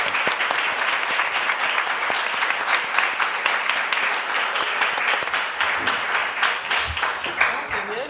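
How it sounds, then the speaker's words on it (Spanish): A crowd applauds steadily for several seconds, dense clapping that holds at a fairly even level before easing slightly near the end. "Pediría un aplauso para Carolina y para Javier."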